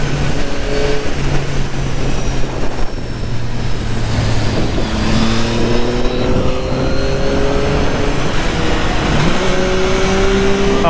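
Yamaha MT-09 motorcycle accelerating hard at full throttle, engine note rising in steady pitch sweeps under heavy, continuous wind rush across the microphone.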